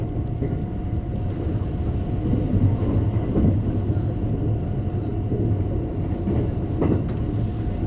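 An express train rumbles steadily at close range, with rhythmic clacking over the rails as it runs through Ugokibashi station in Japan without slowing.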